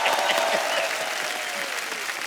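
Studio audience applause for a singer on a Kapil Sharma comedy show set, a steady dense patter of clapping with faint voices mixed underneath.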